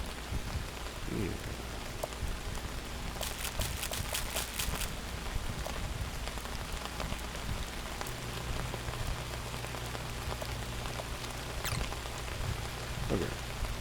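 Steady rain falls outdoors, a continuous dense patter on surfaces that stays even throughout, with a brief rattling burst partway through and a low hum joining later.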